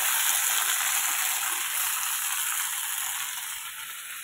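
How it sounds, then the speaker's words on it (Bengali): Cumin and ginger paste fry in a pan at home for a fish curry, giving a steady close hiss and sizzle with faint scraping that eases slightly toward the end. "জিরে আর আদাটা বাটাটা দিয়ে ভালো মতো কষিয়ে নেব।"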